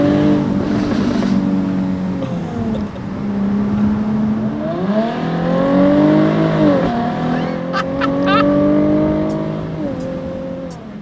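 Jaguar F-Type V6 S engine revving, its note climbing and falling through several swells, loud and close, with a person talking over it.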